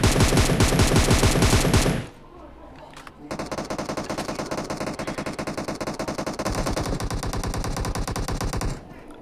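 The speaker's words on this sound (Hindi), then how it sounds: "अब सामने कोई बंदे मतलब फायरिंग आ रहा था।" Rapid machine-gun bursts in the battle-royale game PUBG, loud and close, firing continuously for about two seconds, pausing briefly, then resuming in a long sustained stream of automatic fire.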